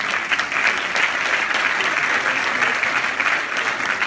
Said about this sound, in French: Un maximum d'applaudissements pour Marie-Emilienne Anico